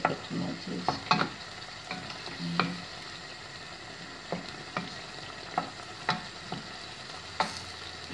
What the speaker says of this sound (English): When you put the tomatoes, they need to just like cook a little bit